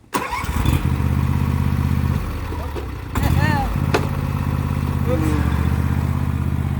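A small two-stroke leaf blower engine starts with a sharp pull and settles into a loud steady buzzing idle, stalls or dips briefly mid-way, then runs again while people talk near it.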